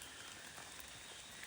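Soft, steady rainfall in a Borneo forest, a faint continuous patter with scattered drops; no voices.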